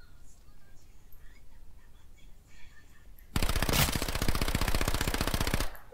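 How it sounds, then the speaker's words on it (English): An Uzi fires in the video game King of the Kill as one sustained rapid automatic burst of sharp gunshots lasting over two seconds, following a quieter stretch of game ambience. "Oh, this Uzi sucks."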